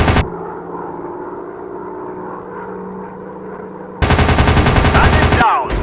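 Rapid machine gun fire from a WW2 fighter plane in an Android dogfight game over a droning propeller engine, with a harsher, louder burst of gunfire near the end, close and continuous.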